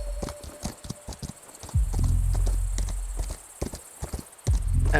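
Horse in the video game Equinox Homecoming, with steady clip-clopping hooves throughout, joined by deep snorting, rumbling whinny-like breaths, loud and close, no speech.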